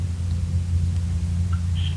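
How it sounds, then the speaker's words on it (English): A low, continuous thunder rumble rolls through a storm scene in the Roblox game Berry Avenue, steady and heavy in the bass, with a couple of faint higher blips and no speech. "I feel thunder."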